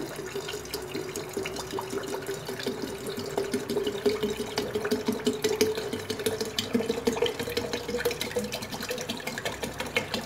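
Water pours steadily into a container of raw mango sharbat with sugar, a continuous splashing gurgle whose pitch slowly rises as it fills, close and fairly quiet.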